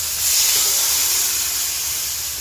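Hot water poured into spices frying in a pan on a village cooking fire sends up a loud, continuous hiss of steam, a broad sizzling rush that holds steady for a couple of seconds.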